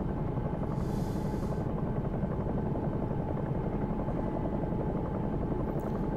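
A simulated Bell 222 helicopter in X-Plane 11 drones with a steady, even rotor chop and engine hum, constant and moderately loud from start to end with no speech over it.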